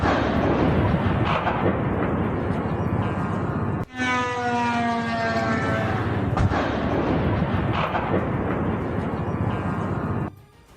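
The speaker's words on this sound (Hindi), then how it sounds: "धमाके होने शुरू हो गए।" A loud, continuous rumbling roar of an oil depot fire after a drone strike, with sudden booming explosions, one followed by a descending whine-like tone, ending abruptly.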